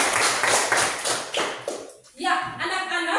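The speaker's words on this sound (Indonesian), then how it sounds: "Kita tepuk tangan dulu." Children in a classroom clap their hands together in a quick burst of applause, with a teacher's voice speaking over and around the claps.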